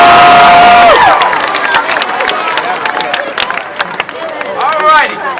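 A crowd cheering at the 2011 Texas vs. OU torchlight rally, loud outdoor shouts and whoops from many voices that rise and fall after a brief tone at the start.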